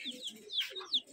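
Rajshahi Giribaz pigeons coo in short, soft bursts with a few higher chirping calls overlapping, close by in a quiet loft.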